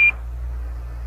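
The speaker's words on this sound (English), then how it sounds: "Roger, 1201 alarm." Apollo lunar module 1201 program alarm during the moon landing descent: one brief high electronic beep at the very start, then a steady low radio hiss and hum.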